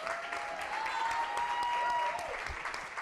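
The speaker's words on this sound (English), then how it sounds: "round of applause for that" An audience at a Hispanic leadership summit gives a round of applause, a moderate wash of clapping heard somewhat at a distance, with a faint tonal hum running underneath and slight rises and dips.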